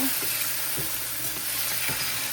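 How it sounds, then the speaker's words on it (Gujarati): Chopped tomatoes stirred in a frying pan with dried chilli and curry leaves, a soft steady sizzle broken by a few quiet scraping strokes of the spoon, faint and close, with no talking. "ટામેટા નાના કરી દઈએ મિક્સ"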